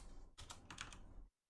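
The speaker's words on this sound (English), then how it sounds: "That's just me fat fingering the keyboard." Fingers clatter quickly on a computer keyboard, a dense burst of close key clicks that stops abruptly into silence, with no voices.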